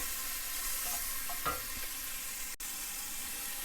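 Mushrooms for a creamed ribeye dish frying in a pan, a steady broadband sizzle running throughout with a few soft stirring scrapes near the middle, no voices.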